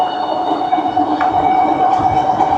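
A continuous high-pitched electronic warning whine from a Meelod DK300MAX dual-motor electric scooter sounds over a rumbling, rattling ride on ridged ground, steady and fairly loud throughout.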